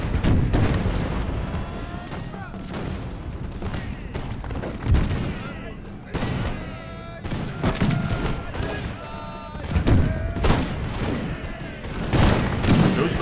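Musket volleys and scattered shots crackle through a Napoleonic-era video game battle between Russian and German grenadier forces, with dense overlapping bursts and heavy booms throughout and faint voices and battle clamor beneath.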